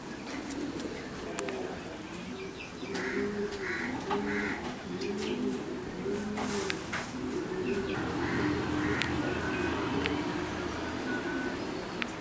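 Racing pigeons at a loft, with the birds back from a 1000 km race, cooing in repeated low rolling phrases close by over steady background noise and scattered chirps, with faint voices in the background.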